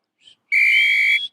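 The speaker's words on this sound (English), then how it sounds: "so it's like a ref whistle" A short chirp, then one loud, shrill referee's whistle blast held for under a second, close and piercing.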